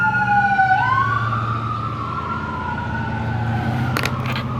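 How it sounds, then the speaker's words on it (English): An ambulance siren wails past, its rising and falling tone sweeping across a steady road rumble, fairly close and loud, with a brief clatter near the end. "That ambulance came by, it screwed me all up."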